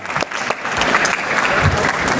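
An audience at World Travel Market applauding to welcome Wizz Air chief executive József Váradi, loud and close, opening with scattered claps that quickly swell into sustained, full clapping.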